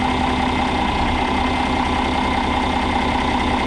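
A John Deere 4010 tractor engine runs steadily in second gear, a loud, close, continuous diesel drone with a constant knocking pulse and vibration throughout, no voices.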